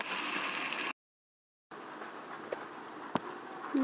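Heavy rain pours down in a steady, hissing patter, breaks off into a short silence, then resumes with a few scattered knocks and drips.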